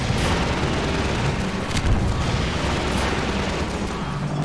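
Rockets being shot down in Half-Life 2 fill the scene with dense, continuous booming blasts and rumbling explosions, loud and close, with a few sharper bursts scattered through.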